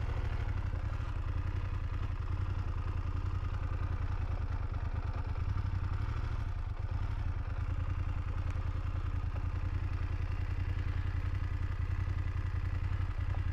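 A 2023 BMW F750 GS Sport motorcycle engine running steadily while riding on a rural road, a continuous close, loud low-pitched drone with mechanical clatter and no talking.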